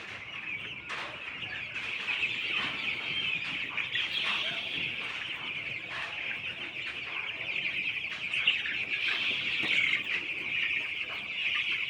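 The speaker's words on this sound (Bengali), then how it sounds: "এত সুন্দর মুরগিটা" Chickens cluck and murmur close by in a continuous busy chatter, with occasional sharper calls and a few chirps in the background.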